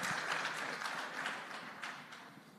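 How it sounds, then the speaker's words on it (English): Conference audience applauding at a cybersecurity event, a full wash of clapping from many people that starts strong and slowly tapers off toward the end. "Give them a round of applause,"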